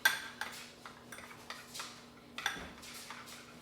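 Soft, light scraping and clinking of a utensil against a bowl while a seasoning rub for smoked lamb is mixed, a steady series of small taps at close range and fairly quiet.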